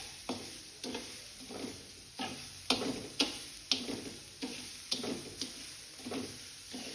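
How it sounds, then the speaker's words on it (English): Grated coconut and sugar stirred continuously in a pan, a steady rhythm of scraping strokes and light knocks roughly every half second over a soft sizzle, close and fairly quiet, with no voices. "Now add grated coconut and 2 cups of sugar. Stir continuously."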